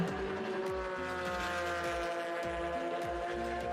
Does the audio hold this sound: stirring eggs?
no